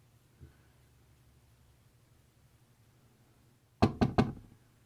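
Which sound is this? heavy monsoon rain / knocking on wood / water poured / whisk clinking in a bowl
knocking on wood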